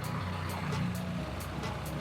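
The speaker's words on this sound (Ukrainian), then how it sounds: "Тримаємо переднє гальмо, адже у нас автомат. Запускаємо двигун." A BMW R 1300 GS Adventure motorcycle engine starts up close by and settles into a steady, deep rumble that continues throughout.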